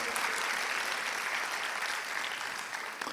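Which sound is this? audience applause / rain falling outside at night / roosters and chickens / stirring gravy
audience applause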